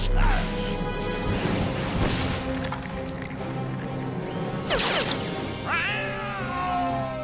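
Synthetic, electronic meows from robot cats in the Galactik Football cartoon, several rising and falling calls over busy music and crashing effects, fairly loud throughout.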